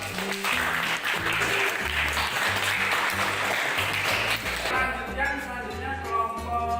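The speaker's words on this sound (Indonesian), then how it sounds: "Kita berikan tepuk tangan." An audience at a classroom presentation gives a sustained round of applause, dense and fairly close. The clapping fades into quieter background sound toward the end.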